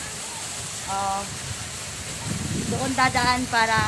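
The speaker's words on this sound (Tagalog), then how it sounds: "So, ito po yung falls." A waterfall at Palaisdaan in Tayabas, Quezon gives a steady, close rush of falling water throughout, with people talking over it.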